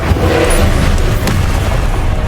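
Incendio fire spell cast during combat in Hogwarts Legacy, a loud, dense whooshing roar of flame with a low booming body and a sharp burst near the start, sustained steadily throughout.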